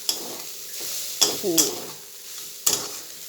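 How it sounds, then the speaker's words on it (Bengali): Food stirred in a pan on the stove for an evening snack, quiet frying hiss under a few sharp metallic clanks of the spatula against the pan. "এবার একটা নাড়াচাড়া দিয়ে নামিয়ে নেব"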